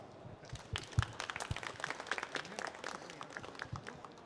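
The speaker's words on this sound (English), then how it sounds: "Please give him an applause." An audience at an IAC 2023 science and academic luncheon gives scattered, fairly faint applause, uneven claps spread across a few seconds in a large room.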